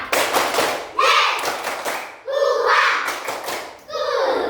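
Fifth-grade schoolchildren clap together in short rhythmic bursts, sharp overlapping hand claps grouped with pauses, mixed with children's chanting voices in a classroom.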